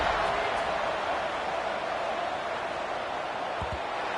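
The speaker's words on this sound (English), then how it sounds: "this crowd is buzzing after that last score" A large stadium crowd in the College Football 26 video game keeps up a steady, loud roar and buzz throughout, broad and even with no break, after a touchdown just before the kickoff.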